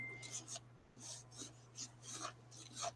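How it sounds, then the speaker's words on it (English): A utensil scrapes pink bath bomb mixture off the sides of a mixing bowl. Soft rasping strokes repeat about every half second, quiet and close over a steady low hum. "I just start off by mixing this in at first, going up on the sides, scraping that color off"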